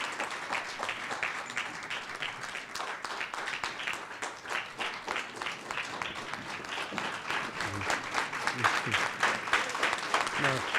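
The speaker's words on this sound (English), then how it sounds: "please let's give him a round of applause" Sustained audience applause fills the room as a keynote speaker comes to the stage at a conversation event with Deputy Minister David Masondo, dense steady clapping throughout with a slight swell toward the end.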